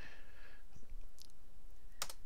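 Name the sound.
computer mouse clicking in a game editor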